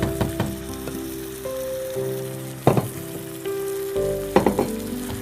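Marinated mutton in yogurt and spices frying with onions in a pan for Hyderabadi dum gosht, a steady close sizzle with a few sharper bursts as the pieces are stirred, no talking.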